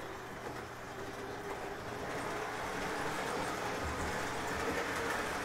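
An O-gauge model train runs around a home layout, giving a steady, continuous rolling rumble with faint rail clatter, moderately close and unbroken by speech.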